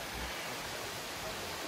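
Erskine Falls in the Otway forest near Melbourne, heard from the lower lookout as a steady, dense roar of falling water that fills the whole moment without change or any voices.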